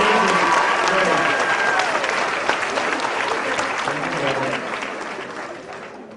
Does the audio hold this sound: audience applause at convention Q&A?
yes